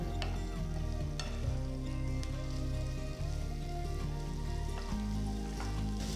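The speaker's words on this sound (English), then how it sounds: "Add the marinated cauliflower pieces and roast it for about 5 minutes on high flame." Marinated cauliflower pieces roast in oil in a pan over a high flame, giving a continuous crackling sizzle with occasional sharper pops, steady and close.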